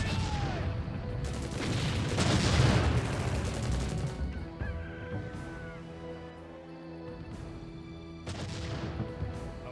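Artillery bombing rumbles and crackles in Empire Earth's Russian campaign, heavy blasts and gunfire packed densely early on, then thinning to scattered booms under music-like game tones.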